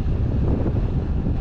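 Strong headwind buffets the microphone of a cyclist riding downhill in Switzerland, a heavy low roar, constant and close, with no talking.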